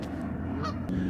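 A goose honks nearby outdoors, a couple of short nasal calls over a steady low background rumble, heard alone without talk.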